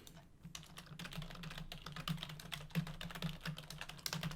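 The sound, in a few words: typing code on a computer keyboard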